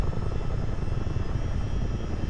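A Miltech CH-47 Chinook helicopter in Microsoft Flight Simulator makes a steady, loud rotor and engine roar that holds constant throughout, with no talk.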